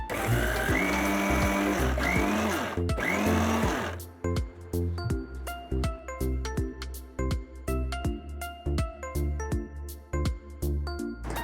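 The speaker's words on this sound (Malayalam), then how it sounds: "ആദ്യം നമ്മൾ ഇതൊന്ന് മിക്സിയിൽ വെച്ച് നന്നായിട്ടൊന്ന് അരച്ചതിന് ശേഷം ഒരു 1/4 ഗ്ലാസ് വെള്ളവും കൂടി ഒഴിച്ച് വീണ്ടും ഒന്ന് അരച്ചെടുക്കണം" A kitchen mixer grinder crushes ingredients for a homemade face gel, a loud steady whirring motor for the first four seconds, then giving way to clattering, rhythmic knocking and rattling as the jar contents break up.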